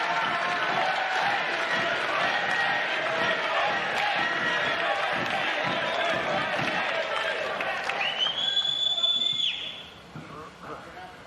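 A Davis Cup tennis crowd during Frances Tiafoe versus Jakub Mensik cheers and claps loudly and steadily for several seconds, then the roar fades out.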